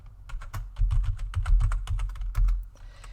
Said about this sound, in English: Let's find the right box and type it in.